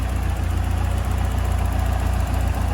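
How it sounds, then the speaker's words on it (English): A Ford Fiesta RS Turbo engine, a garage find left standing 17 years and kept to standard OEM spec, idles steadily close by with a loud, even low rumble and a faint periodic tick, with no voices. "The engine sounds sweet."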